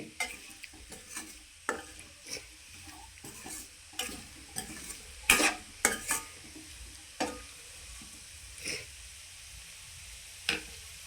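A carrot fry is stirred in a hot pan with a spoon, giving a soft steady sizzle broken by irregular sharp scrapes and clicks against the metal, close up and without any voices.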